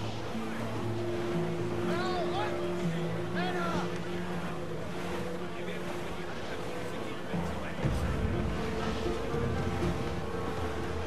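A sailing ship cutting through ocean waves in the game Assassin's Creed 4 Black Flag, with a continuous rushing wash of water and a low rumbling drone, moderately loud and steady from start to finish.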